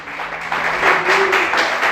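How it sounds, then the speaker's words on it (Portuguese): Church congregation applauding during an evening sermon, a dense wash of clapping that swells in the middle, with a faint voice or tone weaving underneath. "Quantos podem aplaudir o Senhor nessa noite?"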